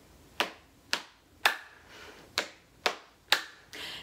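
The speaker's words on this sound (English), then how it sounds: "Slap, slap, clap. Slap, slap, clap." Hands beat out a rhythmic pattern of two slaps and a clap at a children's church moment, six crisp sharp hits evenly spaced with no talk over them.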